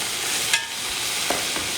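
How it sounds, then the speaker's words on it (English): Vegetables go into hot oil in a cooking pot, a steady broad sizzle of frying with a few soft stirring knocks, close and alone. "A little bit more oil in my pot for my veggies. And then our veggies go in."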